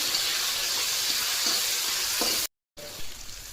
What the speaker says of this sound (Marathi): आता टमाटर आपल्याला व्यवस्थित मॅश करून घ्यायचं यामध्ये